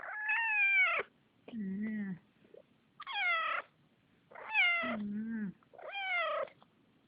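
A newborn kitten meows five times in a quiet space, high wavering cries alternating with lower, shorter calls, close and clear with pauses between.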